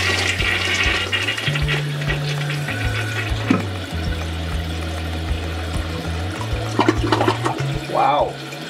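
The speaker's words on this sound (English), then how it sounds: "I'm going to flush right now" A toilet that had been failing to flush properly flushes with a loud, sustained rush of water and a low droning hum, the gurgle and churn fading slightly toward the end.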